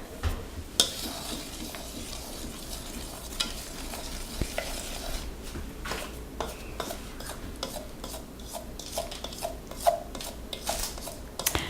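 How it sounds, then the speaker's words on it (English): Donut glaze is stirred in a bowl with a stirrer, a soft continuous wet scraping and swishing with occasional light clicks of the utensil against the bowl, close and fairly quiet. "Okay, so we're just going to stir that around a little bit."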